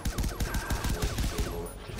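Rapid bursts of video game gunfire in Far Cry 3 Blood Dragon: a quick run of punchy, closely spaced shots, loud and repeated in a rhythmic volley for about two seconds.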